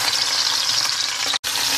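Fish frying in hot olive oil gives a steady, close, dense sizzle and crackle that runs without a break apart from a momentary dropout near the end.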